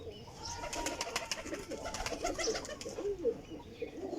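A flock of 25 pigeons, 20 females and 5 males, coos and flutters close by, with overlapping soft cooing calls and some wing noise in a steady, busy chorus.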